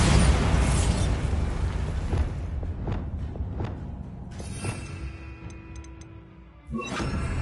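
Bombarda explosion spells in the Hogwarts Legacy video game, a heavy booming blast that rumbles and decays, followed by a few sharp pops, a faint tonal hum and another burst at the end.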